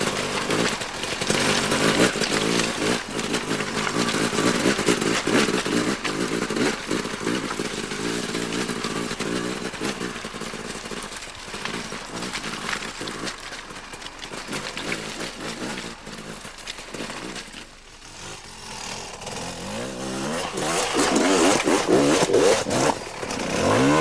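A Yamaha enduro motorcycle accelerates off-road in repeated throttle bursts, its engine buzzing and rasping loudly and close, dipping briefly before rising again, with no speech.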